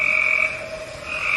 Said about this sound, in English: Behind those frogs.